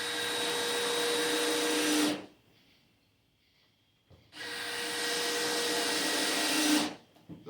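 Power drill or driver buzzing as it drives screws into a door-clamping jig in a woodshop, two sustained bursts of roughly two seconds each separated by a quiet pause, close and loud.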